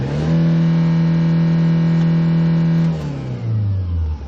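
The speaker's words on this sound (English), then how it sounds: "Let's try to accelerate and see the RPM's movement." A 15-year-old Hyundai Starex diesel limousine van revs up loudly and smoothly, its engine tone rising and holding steady for nearly three seconds before easing off and dropping back toward idle.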